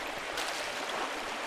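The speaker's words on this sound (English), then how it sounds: "Waterfall must flow down from the snowmelt in the mountains above the abbey." A waterfall fed by mountain snowmelt near an abbey in the game Pentiment rushes in a steady, hissing broadband wash, soft and continuous throughout.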